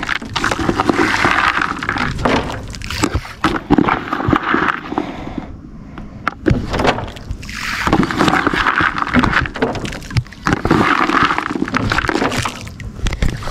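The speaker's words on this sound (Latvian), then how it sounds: "nu, braucam ar laivu" A boat rowed across a carp-fishing pond, oars sloshing and dipping in a repeating rhythm of bursts, close by and fairly loud, with water splashes and no talk.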